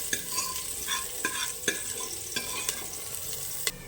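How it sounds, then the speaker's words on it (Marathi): Onion fries in hot oil inside a pressure cooker while being stirred, a steady bright sizzle broken by repeated close scraping and knocking strokes of the spatula against the metal. "इथे मी कांदा टाकणार आहे थोडासा हलका असं कांदा लालसर होईपर्यंत परतवून घेणार आहे कुकरमध्ये"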